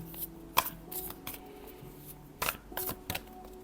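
Tarot cards are shuffled and drawn, giving a few soft papery flicks and snaps, close and quiet, spaced irregularly against a faint hum.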